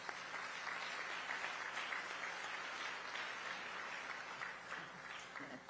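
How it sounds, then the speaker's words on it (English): Steady applause from an audience at an annual humanitarian awards event in Houston, sustained and fairly even throughout, with faint voices mixed in. "Everyone should join me, and all of us applaud Trivia and Dave and Dennis."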